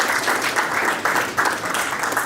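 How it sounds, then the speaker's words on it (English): An audience applauds steadily for a guest speaker at a Cal Poly event, a dense, even wash of clapping that holds for the whole stretch with small swells and no voices over it. "give a round of applause for J.D."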